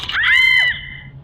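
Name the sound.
woman screaming in pain, story sound effect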